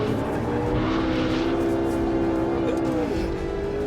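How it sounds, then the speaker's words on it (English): McLaren 12C Spider drifting on a race track, engine droning steadily under load with a long sustained tyre squeal, loud and close throughout. "And yes, you can now drift a McLaren."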